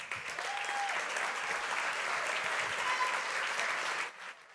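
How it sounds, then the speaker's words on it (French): Audience applause at a gala evening, a dense and even sustained clapping from a room full of people that holds steady and then quickly dies away near the end. "je vous demande d'accueillir le directeur de la Business Unit Expérience Client avec vos applaudissements pour monsieur Daniel Arondel."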